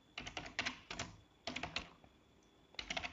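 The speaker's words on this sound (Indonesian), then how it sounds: "Saya ngetiknya kurang lancar karena memang jarang ngetik ya" Irregular, hesitant typing on a computer keyboard, close and clear, in uneven bursts of keystrokes separated by short pauses.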